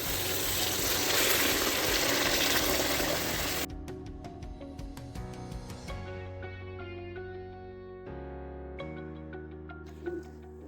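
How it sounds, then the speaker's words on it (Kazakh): Water gushes loudly into a pot for Uzbek pilaf for about four seconds, a steady broadband pour that then stops, leaving quieter ringing, echoing kitchen sounds. "1 литр су қосамын."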